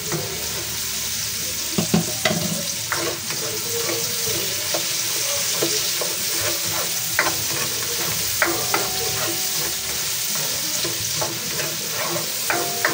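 Onions sauté in a pan after garlic, a steady sizzle under regular stirring clicks and scrapes, moderately quiet and close with no talk.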